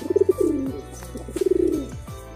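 A high-flying homing pigeon coos close by in two rhythmic bursts of rapid, throaty pulses, each rolling into a lower drawn-out note, with no talking.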